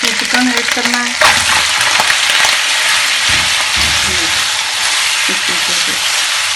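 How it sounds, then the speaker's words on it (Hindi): Chicken dropped into browned onions in a hot pan for chicken jalfrezi, a sudden burst of loud sizzling and crackling frying that continues steadily with occasional stirring clatter. "अब इसमें चिकन ऐड करना है।"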